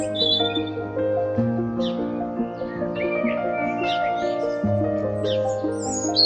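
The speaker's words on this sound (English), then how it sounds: "way up in the uppermost branch, a robin serenades us with its vibrant song" A robin sings from the top branch of an ash tree in a suburban garden, bright high warbling phrases over a sustained tonal background hum.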